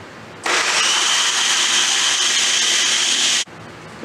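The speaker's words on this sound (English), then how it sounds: "So place it back, turn it on again." A blender grinding whole oats into flour runs in a single steady, loud whirring burst of about three seconds, starting and stopping abruptly.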